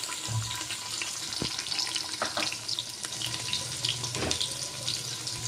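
Chopped onions dropped into a cumin and mustard seed tempering in a pressure cooker, giving a steady crackling sizzle with a few clatters, heard alone at moderate volume.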